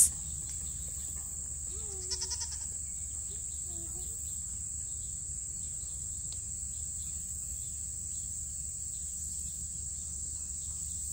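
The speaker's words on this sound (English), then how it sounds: "Baby goats." Baby goats bleat a few times close by, short wavering cries around the two- and four-second marks over a constant high insect drone and a low rural hum.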